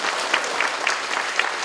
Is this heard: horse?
no